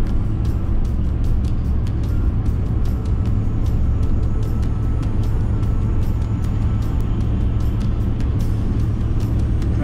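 A truck drives a highway between Calgary and Edmonton in winter, with a steady low engine and road drone heard from inside the cab and faint regular ticking on top.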